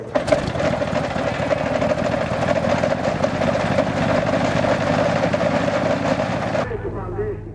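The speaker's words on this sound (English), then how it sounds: "We start then with the collection's Bristol F2B fighter at the Air Spectacular in May." A WWI-era Bristol F2B fighter biplane runs its engine at an air show, a loud steady droning buzz that holds for about seven seconds before cutting off sharply.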